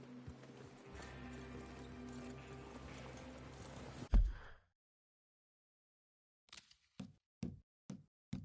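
Horse hooves clip-clop in Red Dead Redemption 2, first a dense rumble of riding under a steady soundtrack, then a heavy thud, silence, and four distinct, evenly spaced hoof knocks standing alone.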